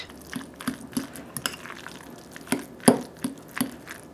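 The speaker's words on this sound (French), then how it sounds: "Et on mélange" Guacamole ingredients with salt being stirred in a small bowl, soft scattered clicks and wet squelches at irregular intervals, quiet and close, with no talking.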